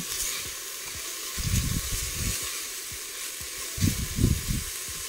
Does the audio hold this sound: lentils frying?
yes